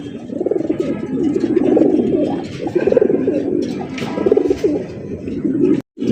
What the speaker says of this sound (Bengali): ওর দেখেন অরিজিনাল শৌকিং কবুতর, একদম লেজ আর মাথায় এক জায়গায়